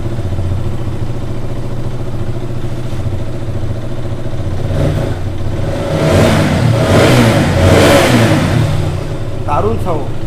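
A second-hand 2018 BS4 motorcycle idles with a low rumble, then is revved in a couple of louder bursts, close by, while people talk over it.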